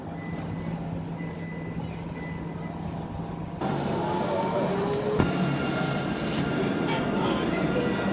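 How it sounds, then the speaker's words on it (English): A tram pulls in at a Nottingham stop amid rumbling traffic and a loud steady hum, with tonal whines and a sudden shift partway through, a short sharp clunk, and bright squealing tones toward the end. "coming in here is another tram of some description"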